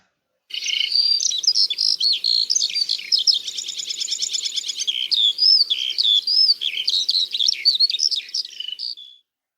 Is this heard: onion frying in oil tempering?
no